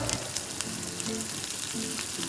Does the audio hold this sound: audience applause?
no